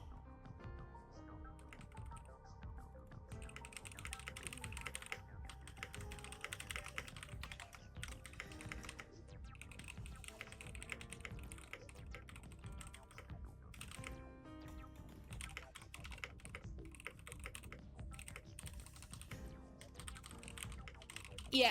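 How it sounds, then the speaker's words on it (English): Steady typing on a computer keyboard runs throughout, a dense stream of quick, close key clicks at an even pace that sits over quiet background sound from a livestream. "I'll type in chat just in case."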